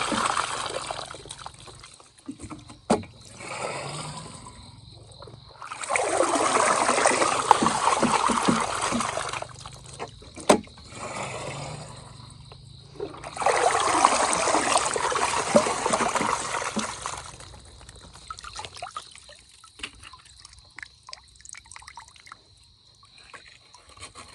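Water flowing and trickling at a river shrimp trap made from a 5-litre plastic jug, rising in two long broadband bursts of splashing flow between quieter, sparse dribbles.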